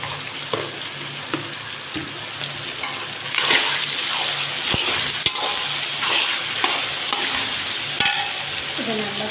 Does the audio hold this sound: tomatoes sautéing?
yes